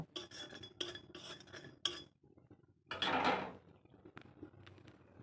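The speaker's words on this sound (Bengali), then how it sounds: "আর এখানে আমি একটু জিরে কাঠখোলা একটু নেড়ে নিচ্ছি, হালকা করে একটু ভেজে নেব" Cumin seeds being dry roasted in a pan and stirred, giving a few bursts of rattling, scraping spoon-on-pan sounds separated by short pauses, fairly close and quiet, with no talk.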